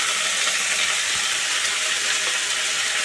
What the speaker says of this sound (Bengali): এখন ভাজা ভাজা করতে হবে